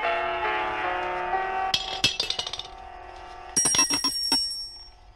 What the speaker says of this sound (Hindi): हम तो घंटी बजाएंगे